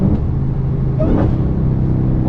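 A Dodge Hellcat drives along with a steady, loud engine rumble, and a faint rising supercharger whine sits on top of it.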